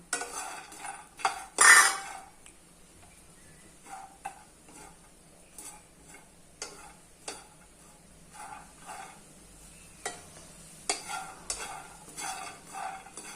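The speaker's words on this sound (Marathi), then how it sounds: "यातच आपण शेंगदाणे घालून घेऊयात" Peanuts are added to a hot pan on a low flame and roasted, with a sharp clatter as they drop in, then sparse scraping and rattling stirs over a faint sizzle.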